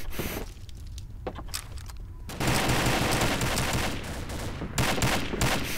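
Rapid bursts of gunfire in a first-person shooter match, close and loud, with scattered shots early on and then sustained automatic fire.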